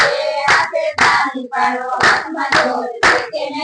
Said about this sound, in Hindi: बे हाथे ताली पाड़ो हाथ में जोर से के नहीं